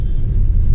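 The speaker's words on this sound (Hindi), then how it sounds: "देखो दिल्ली का नाम सुनते ही ट्रैफिक आना शुरू हो गया" Road traffic near Delhi gives a brief, loud, low rumble of passing vehicles, with no talk.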